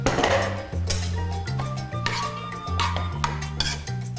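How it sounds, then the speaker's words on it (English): Pineapple pieces land in a hot stir fry pan with clattering, scraping strikes of a utensil against the pan over a steady low stovetop hum, with a few quiet voice sounds. "now my pineapples, I'm just going to throw it in"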